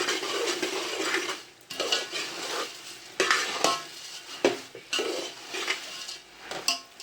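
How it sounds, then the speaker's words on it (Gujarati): Puffed rice (mamra) mixture being stirred and tossed in a pan, bursts of dry rustling and scraping with metal utensil clinks, coming in uneven strokes with short pauses between. "એને સરખી રીતે મિક્સ કરી નાખીએ"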